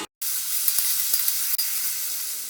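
Potatoes cook under a lid in a pan over a medium flame, giving a steady close sizzling hiss throughout with a few faint ticks and one brief dip, after a short silent gap at the start.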